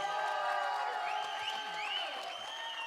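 A press-conference room crowd in Abu Dhabi applauds and cheers for UFC fighter Islam Makhachev, a steady wash of clapping with scattered whoops and voices throughout.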